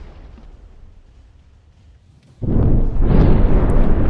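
Explosions aboard a battlecruiser in the naval combat game From the Depths: a low rumble gives way to a sudden loud, heavy blast that keeps roaring on as a dense, booming burst.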